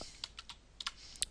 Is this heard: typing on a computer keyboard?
yes